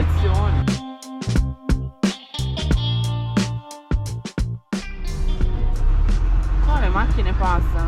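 Cars and heavy trucks roll past on a road in Gambia, a steady low traffic rumble with a vehicle sweeping by near the end, heard under ongoing conversation and bursts of talk.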